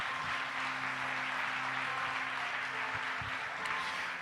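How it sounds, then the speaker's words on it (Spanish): A church congregation applauds, a soft, distant wash of clapping held steady for several seconds beneath a low hum, with a few faint thumps. "Démosle un aplauso al Rey por tanta gracia"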